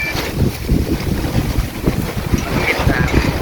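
Strong outdoor wind buffets the microphone in loud, continuous low rumbling gusts that surge and ease throughout, with no clear speech.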